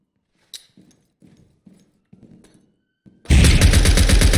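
In an online shooter match, a string of small muffled impacts and shots gives way to a sudden loud, sustained grenade blast and gunfire burst that fills the end.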